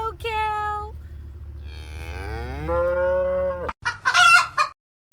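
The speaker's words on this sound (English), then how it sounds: "all you need to see is your Oreo cow." A black-and-white Oreo cow moos in long, loud harmonic calls, one brief low then a longer rising moo, followed by a noisier burst at the end with no talk.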